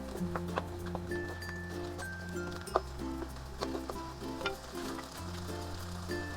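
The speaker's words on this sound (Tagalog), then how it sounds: "Pwede na natin ilagay yung hipon. Yung ating lemon lime soda, mga half a cup. Hayaan lang natin itong kumulo." Shrimp cooking in half a cup of lemon-lime soda for cheesy garlic shrimp give off a soft, constant sizzle and bubbling, with occasional light clicks of a utensil, under steady background music.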